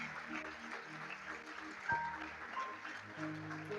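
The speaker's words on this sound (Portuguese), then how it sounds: "vocês podem aplaudir Jesus bem forte" Faint, steady applause from a church congregation fills the space at a distance, a soft continuous patter with no single claps standing out.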